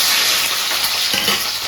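Sliced onions frying in hot oil and ghee on a stovetop for dum biryani, giving a steady close, loud sizzle with a few soft stirring scrapes.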